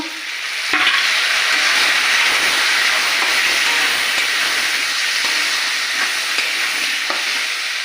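Tomato drops into a hot frying pan with potatoes, setting off a sudden loud hiss that settles into a steady steamy sizzle with occasional stirring clicks.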